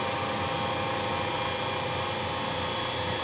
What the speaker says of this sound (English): Since it's a brush motor, it's a little bit slower ramping up.